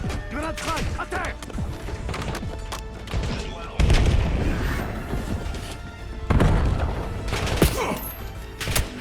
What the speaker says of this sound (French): Grenade frag, à terre!